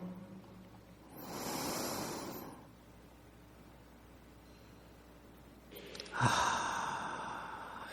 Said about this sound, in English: another inhale. And another inhale.